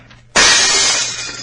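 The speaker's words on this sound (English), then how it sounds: "Smash the glass with that chair." A pane of glass is smashed with a chair, a sudden loud crash that bursts out of near silence and leaves a long bright shatter of falling shards tapering off.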